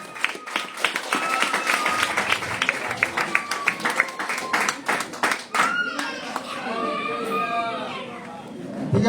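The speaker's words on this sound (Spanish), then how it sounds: "Un fuerte aplauso al Señor" Church congregation applauding, a dense burst of close hand claps that thins out, followed by a voice speaking over the room.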